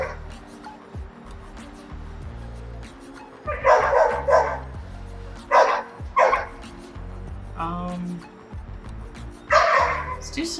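A dog barks and whimpers in several short bursts, yips mixed with whining, fairly close, over a low steady background hum.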